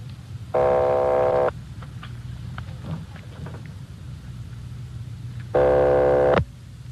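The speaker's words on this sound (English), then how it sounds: "Keep ringing, 761. They're ringing the number, Sergeant." A telephone line ringing in an old radio police drama: two long buzzing ring tones about five seconds apart, with faint low hum and scattered noise between them.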